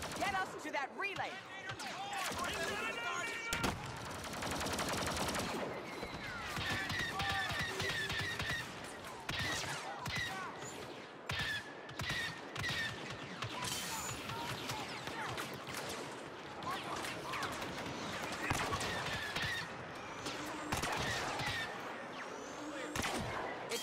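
Blaster fire in Star Wars Battlefront II (2017), heard as repeated sharp bursts and crackling volleys scattered through a busy battle, with voices talking over the fighting throughout.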